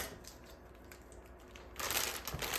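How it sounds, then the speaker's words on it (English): Scissors snip open a plastic Caesar salad kit bag, a quiet crinkly rustle building into a louder burst of plastic crackling near the end, close and alone. "cut open the Caesar salad kit. I'm just going to use my scissors."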